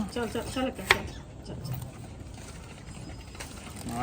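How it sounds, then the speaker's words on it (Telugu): Betel leaves are cut for fritters with soft, sparse chopping taps and light kitchen clatter, with brief talk at the start. "ఇదిగోండి నేనే కోస్తున్నాను"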